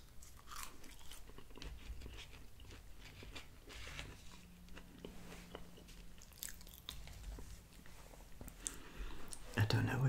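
Crunchy Five Guys style French fries being bitten and chewed close to the mic, with steady crisp crunching and soft mouth sounds throughout and a louder burst of crunching near the end.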